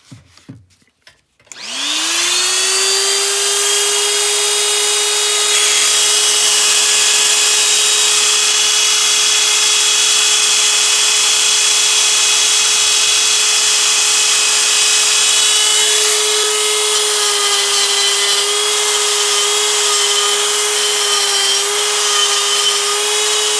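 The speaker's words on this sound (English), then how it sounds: "use some earmuffs, because this die grinder is pretty loud" Die grinder porting the intake runners of 317 LS cylinder heads, a loud, steady high-pitched whine that spins up after a brief start and holds for over twenty seconds with slight pitch dips under load.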